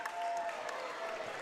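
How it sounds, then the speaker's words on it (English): Basketball crowd at a Minnesota Section 6A boys' tournament game between Benson and Park Christian applauding during substitutions, dense steady clapping across the gym. "Round of applause from both sides here"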